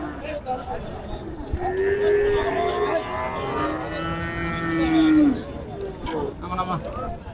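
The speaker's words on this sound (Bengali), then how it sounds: "কি গরু এগুলা, সাইওয়াল নাকি?" Sahiwal cattle at a busy livestock market lowing in long drawn-out moos, two prominent calls close by over a steady crowd murmur with people talking in the background.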